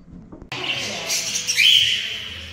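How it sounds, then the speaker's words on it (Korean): Harsh parrot squawks rise over a noisy background of chatter and ambient hum at a sheep ranch, loud and close, with a piercing screech near the end. "앵무새들"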